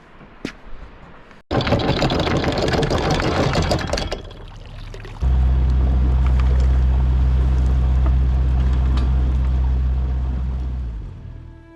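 A sailboat's engine motors through a calm Norwegian fjord, a loud, steady low rumble that settles in after a burst of rushing noise and carries on alone.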